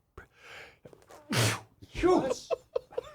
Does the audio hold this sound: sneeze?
yes